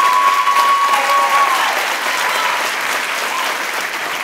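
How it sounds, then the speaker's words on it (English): An audience at an education awards ceremony applauds its Teachers of the Year, a dense, steady wash of clapping that fills the whole stretch, with a brief whistle-like tone early on. "How about another round of applause for all of these outstanding educators?"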